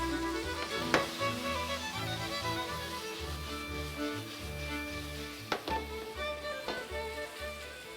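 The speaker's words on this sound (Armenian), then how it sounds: "Կեղևապատեցինք միսը" Meat searing in a hot pan for Artashat boraki, with a continuous sizzle and repeated low scraping and stirring noises, plus a few sharp clicks, heard alone without speech.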